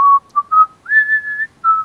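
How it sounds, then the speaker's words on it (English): A person whistles a short, clear tune alone and up close, in several distinct phrases with one long held note in the middle. "And I just sort of turn away and start strolling down the road, whistling as I go."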